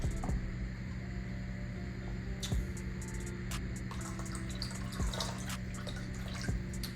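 Corona beer is poured into key lime juice, giving a quiet liquid trickle with scattered drips and clinks, low and close under a faint background hum, with no talking.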